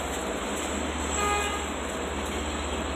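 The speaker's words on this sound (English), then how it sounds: "I hear a diesel train, so that must be a train to Oyster Bay, probably." A diesel Long Island Rail Road train bound for Oyster Bay rumbles past Carle Place station in a steady, continuous low drone, with a brief faint horn tone sounding midway.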